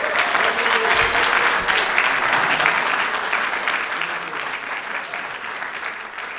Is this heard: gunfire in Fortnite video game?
no